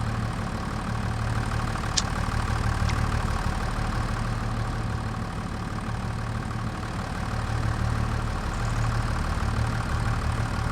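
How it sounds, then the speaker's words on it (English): Massey Ferguson tractor engine idling in a farming video game: a steady, even mid-low engine hum that holds continuously throughout, moderately loud and close, with no talking. "John actually brought his own tractor here on his own farm. So it's a beauty, ain't it? Massey Ferguson."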